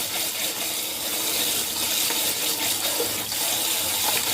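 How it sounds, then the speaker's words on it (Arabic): Water pours steadily over dates in a kitchen to wash them, a loud, close, continuous rushing splash that lasts throughout with no talk. "نكب عليه الماء مزيان، نعومو مزيان."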